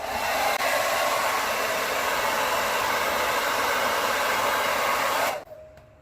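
A hair dryer on high heat and high airflow blows a beard dry, a loud steady close whoosh that runs without pause for about five seconds and then cuts off abruptly.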